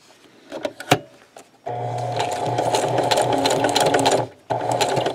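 Sewing machine running steadily through fabric, a loud close motor whir with rapid needle ticking that stops briefly and then starts again, preceded by a few clicks and handling knocks.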